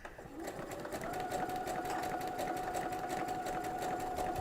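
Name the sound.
sewing machine stitching slowly with a fringe looper foot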